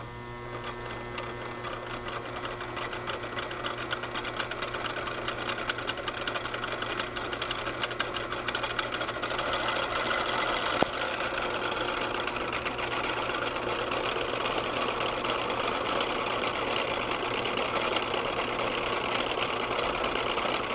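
A three-phase AC induction motor running on a test setup with voltage being raised, a steady whirring hum with a constant electrical drone that grows slightly stronger over about twenty seconds, close and uninterrupted.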